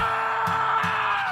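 A character's sustained, strained cry in The House in Fata Morgana, a loud tonal yell held for over a second over a low sustained background with faint pulses.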